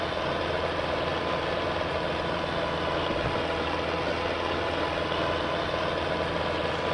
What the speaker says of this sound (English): This was the perfect tractor for this job, let me tell you.